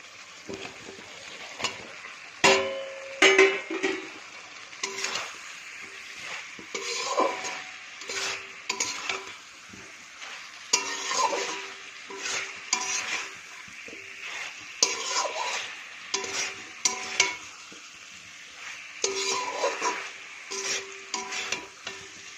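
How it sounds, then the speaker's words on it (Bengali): Young jackfruit and potatoes stirred and fried in a pan: a soft sizzle underneath repeated scraping strokes of a spatula against metal, coming in irregular bursts with brief clinks, close and fairly loud. "এবার আমি দিয়ে দিচ্ছি এঁচোড়গুলো।"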